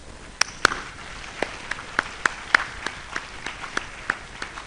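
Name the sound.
audience applauding new fellows at induction ceremony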